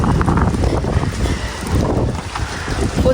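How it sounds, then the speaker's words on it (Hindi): Heavy rain and gusting wind hitting close to a phone microphone outdoors, a dense, steady rushing roar with buffeting wind noise throughout and no talk. "फुल तेज़ बारिश शुरू हो गई है।"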